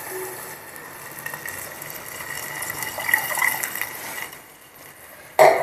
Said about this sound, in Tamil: அதுக்கப்புறம் அதோட 3 டம்ளர் நம்ம நார்மல் வாட்டர் விட்டுண்டு